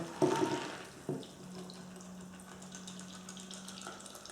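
Whiskey sour being poured into a serving glass, a brief splashing gush of liquid at the start followed by a smaller splash, then a quiet steady trickle with a faint hum beneath.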